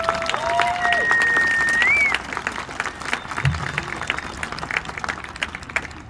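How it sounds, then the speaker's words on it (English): Crowd applause at a school honor band winter showcase concert, a dense wash of clapping that drops in intensity after a couple of seconds and continues more loosely, with a few whistles and cheers. "So I want another round of applause for that."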